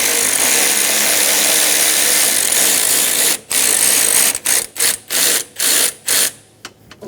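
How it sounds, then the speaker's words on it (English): A ratchet with a 10mm socket loosens the alternator adjuster on a 1994-1997 Honda Accord 2.2L four-cylinder, with steady close clicking followed by several short bursts separated by brief pauses. "We're going to use a 10mm socket. We're going to loosen this and take the tension off the belt."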